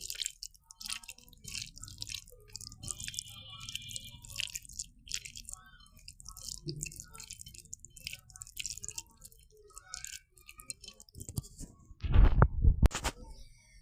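Tomato mash with fried onion being kneaded and mixed by hand, giving soft wet squelching and dripping squishes through most of the stretch, closer and louder bursts near the end.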